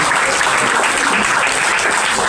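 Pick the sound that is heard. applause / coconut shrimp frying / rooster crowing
applause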